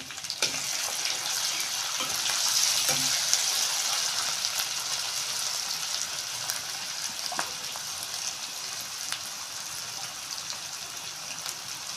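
Spices and ginger garlic paste fry in a pan for an egg and potato curry, a steady broad sizzle close by with occasional soft clicks and scrapes, continuous throughout.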